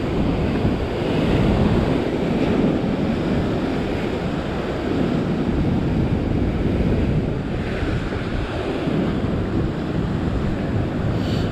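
Sea waves wash and break steadily along a fishing shore, a loud continuous surf roar mixed with gusting wind buffeting the microphone, with no voices.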